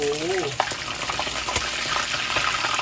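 Crappie fish fry in hot oil with a dense, continuous sizzle and crackle close by, broken by occasional pops, while a voice starts the stretch and carries on faintly underneath.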